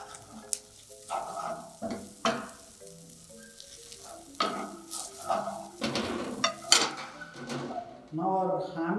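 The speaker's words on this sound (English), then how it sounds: "Bacon and our onions are cooked together." Bacon and onions fry together in a pan, a soft sizzle broken by clinks and scrapes of a utensil stirring, with a voice talking over the cooking.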